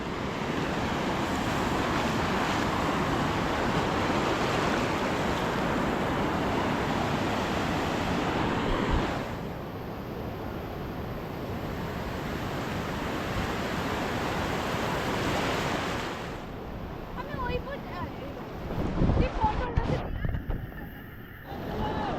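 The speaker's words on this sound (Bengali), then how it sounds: "অল্প বৃষ্টি হচ্ছে, কিন্তু জোয়ারের বেগ কিন্তু ভীষণ রয়েছে" Rough surf at high tide roars in a broad, continuous wash of crashing water at Mandarmani beach in light rain, loud and close, with gusty wind noise and a stretch of fainter surging near the end.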